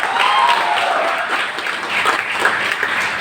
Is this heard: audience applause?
yes